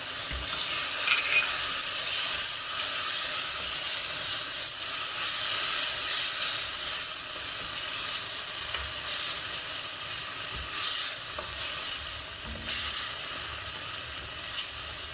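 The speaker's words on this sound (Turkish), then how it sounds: "Salçayı biraz ezdikten sonra da üstüne domates sosunu döküyorum." Tomato paste and tomato sauce sizzle in a pot while green lentils with noodles are cooked, a bright continuous frying hiss with occasional stirring scrapes, close and loud, no talking.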